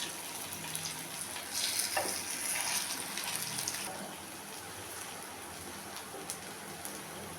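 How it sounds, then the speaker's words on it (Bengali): Fish kebabs fry in hot oil in a pan, giving a steady, fairly quiet sizzle and crackle that swells briefly before settling into an even hiss, with no talking. "আর বাকি যে কটা আছে সেই কটাও আমি এরকমভাবে ভেজে নিচ্ছি"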